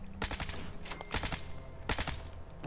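Bursts of gunfire from the player's weapon in Fallout 4, several rapid volleys of close, loud shots in short clusters with brief gaps between them, no talking.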